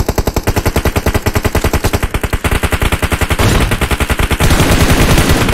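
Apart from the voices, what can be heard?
gunfire in a battle royale video game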